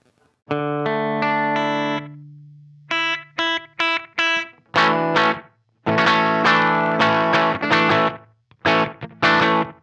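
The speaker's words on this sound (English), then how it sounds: "we are going to demo basically the slapback effect, and here's what that sounds like." Electric guitar chords and notes through a Strymon Timeline pedal's slapback delay, a tight, quick echo doubling each attack, bright and distorted, played in short bursts and strums.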